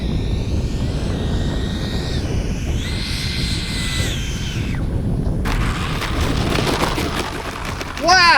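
A Freewing 80mm F-5 Tiger II RC jet on its maiden flight roars past with a steady wind-like rush, its pitch sweeping as it passes and loudening sharply at the end.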